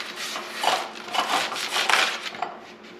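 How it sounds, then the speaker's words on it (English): Wet floral foam is sawn down to size with a knife for a decorative bowl, producing several soft, scratchy rasping strokes close by in an uneven rhythm. "I'm going to cut this foam, wet foam, down to size so that it fits snugly into the bowl."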